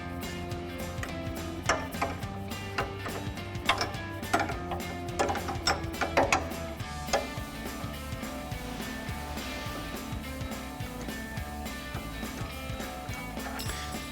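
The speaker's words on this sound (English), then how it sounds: "we're going to grab our 6mm wrench for our stud and our 18mm wrench for our retainer nut" Wrenches work the strut retainer nut and stud on a Silverado 1500 coil spring held in a spring compressor, giving close metallic ratcheting clicks and clanks over a steady mechanical hum, busiest in the first half.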